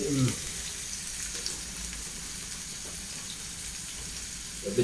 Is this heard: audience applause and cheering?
no